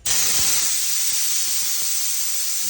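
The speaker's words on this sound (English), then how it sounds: "It's a wonderful air compressor. I'm super happy with the noise level." A California Air Tools 20020AD air compressor releases air in one loud, steady, close hiss that starts abruptly and holds for nearly three seconds.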